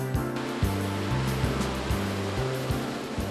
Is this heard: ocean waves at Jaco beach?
yes